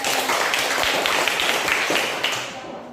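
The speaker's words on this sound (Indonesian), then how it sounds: "Jadi kita kasih tepuk tangan untuk" Classmates applaud student presenters after a class economics presentation, a short, steady wash of clapping that fades slightly toward the end.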